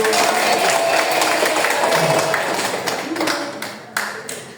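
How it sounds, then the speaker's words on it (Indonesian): A university micro-teaching class applauds, dense clapping filling a few seconds at moderate loudness with some crowd murmur beneath and a few late claps at the end. "tepuk tangan dulu untuk"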